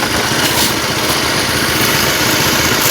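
A cassava grinding machine runs steadily up close, a loud continuous mechanical drone with engine-like vibration and no pauses or talk.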